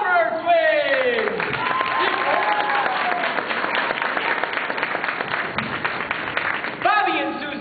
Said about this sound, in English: Please give a big round of applause for the Farmer Twins!